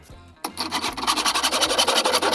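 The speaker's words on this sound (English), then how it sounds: "we will cut a notch in our crossbow for the string to lay in." Rapid rhythmic rasping of a tool cutting a notch into a wooden crossbow stock, starting after a brief quiet lead-in and continuing in steady close strokes.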